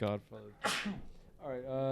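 A single sharp sneeze bursts out between bits of casual conversation, with people talking just before and right after it.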